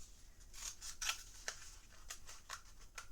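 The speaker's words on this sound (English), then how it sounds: "So we cut out all these shapes at the top and then cut down the middle like this." Scissors snip through paper cutting out small square shapes, with about seven or eight crisp, evenly spaced cuts, close and fairly quiet with no voice over them.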